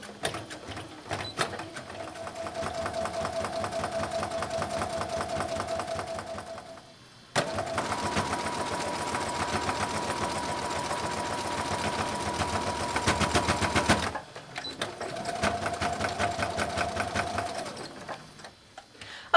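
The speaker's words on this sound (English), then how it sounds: "I'm going to straight stitch at 1/4 inch all the way across the top" Sewing machine straight stitching a seam along the top of an apron pocket, running in two long steady whirring bursts with a short pause between them, close and moderately loud.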